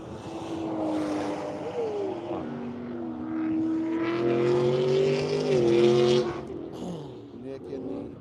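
A Chevrolet Camaro race car roars past on a track, its engine note climbing and sliding in pitch as it nears, peaks loud, then fades away, with commentary spoken over it.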